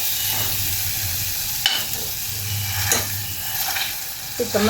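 A spoon mashing food in hot, sizzling masala in a pan, with continuous frying hiss broken by a few scraping strokes and clinks, heard up close with no talking.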